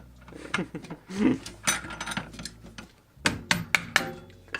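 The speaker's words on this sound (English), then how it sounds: "Just use the hammer here." Sharp metallic clanks and taps ring out irregularly, a handful of hits close by, with quieter rustling and handling noise between them.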